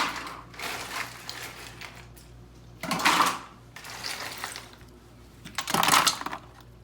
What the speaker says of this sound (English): I'm going to take the ice, fill it in around the machine.